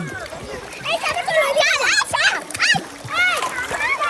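Children and adults splash in the water during swimming lessons at a resort gathering, with several bursts of splashing mixed with children's voices and nearby chatter throughout.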